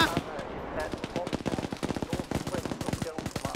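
Rapid automatic gunfire from a military video game convoy fight, dense bursts of shots in quick rhythm, loud and close throughout with a voice briefly heard near the start.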